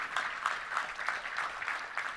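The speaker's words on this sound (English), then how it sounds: "Let's give a round of applause for Addie." Scattered clapping from a modest audience at a touchdown club luncheon, soft and somewhat distant, with uneven bursts across a couple of seconds.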